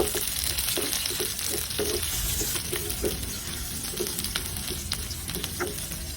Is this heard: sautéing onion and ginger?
yes